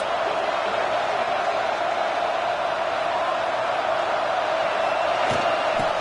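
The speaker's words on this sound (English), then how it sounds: "Listen to the crowd energy here in the early going." A large stadium crowd at a football game roars in a dense, continuous wash of noise, loud and unbroken.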